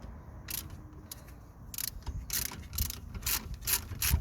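Ratchet clicking in bursts as a 13mm caliper bolt is driven out on a Toyota Yaris front brake, with the pin held by a spanner; close, repeated sharp pawl ticks growing denser toward the end.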